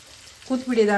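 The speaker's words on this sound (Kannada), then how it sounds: "ಎಲ್ಲ ಹಾಕಿ ಮ್ಯಾರಿನೇಟ್ ಮಾಡಿ ಚೆರಿಗೆ ಪೊಟ್ಯಾಟೊ ಫ್ರೈ ಮಾಡ್ಕೊಡ್ತಾ ಇದ್ದೀನಿ" Potatoes marinated in peri peri masala fry briefly in hot oil, a short sizzling burst that swells halfway through, with a voice mixed in.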